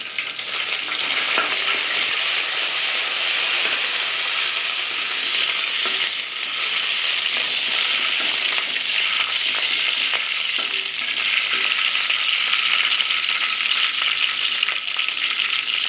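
Curry leaves frying in hot oil for a village-style anchovy curry give a loud, steady sizzle with crackling and stirring throughout, close by and without speech.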